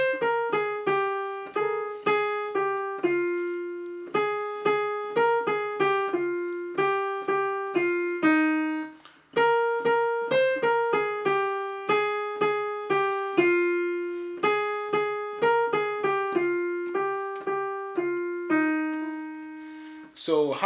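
A solo piano plays the single-note melody of the Ghanaian praise song Chubami, clear and close, with steady phrases of struck notes and brief pauses between lines.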